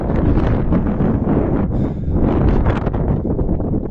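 Gusty wind buffets the microphone in the Carpathian mountains during the first snowfall, with a south-westerly wind of 6-8 metres per second; loud, continuous roar with surging gusts throughout, no voices.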